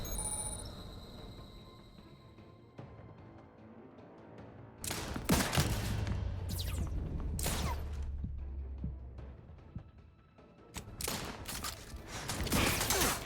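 Gunfire in The Outer Worlds 2 comes as several sharp bursts of rapid automatic shots over mechanical clanking and a low hum, loud and close, with quieter stretches between volleys.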